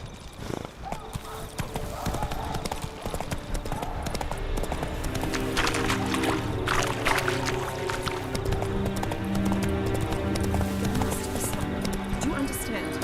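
The horse Roach gallops in The Witcher 3, with rapid, continuous hoofbeats close up under a steady rush of movement, while voices talk over the ride.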